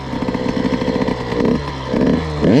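A KTM SX 85 motocross bike engine, close and loud, buzzing at idle and then blipped up in two or three short throttle revs with a rising whine at the end.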